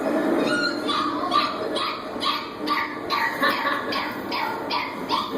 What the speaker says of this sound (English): We saw a lot of animals, and here are some of the dogs.